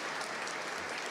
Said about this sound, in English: We can give her some applause